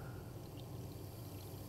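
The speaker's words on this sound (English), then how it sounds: "we're going to run some water through it to rinse out the inside" Water pours steadily into a hog casing to rinse it out while making brisket and cheddar smoked sausage, a continuous close splashing gush that runs without a break and with no talk.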